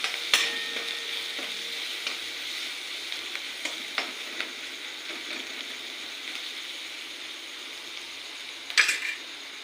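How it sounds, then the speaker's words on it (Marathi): Ground coarse mixture stirred into a hot tempering of cumin, mustard seeds and onion. Steady close sizzle of frying, broken by scattered clinks and scrapes of a spoon against the pan, with a sharper clatter near the end and no talking. "जिरे मोहरी आणि कांद्याची फोडणी करून घेतली आता ही भरड केलेली टाकून घ्यायची"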